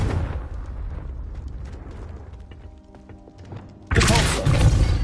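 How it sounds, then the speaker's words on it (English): A Confringo blasting spell explodes in the video game Hogwarts Legacy, a sudden loud, broad burst near the end after quieter rumbling and game effects. "Confringo!"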